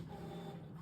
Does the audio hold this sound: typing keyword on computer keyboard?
no